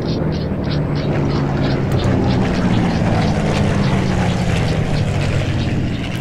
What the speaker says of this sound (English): Engines flying, or planes flying overhead.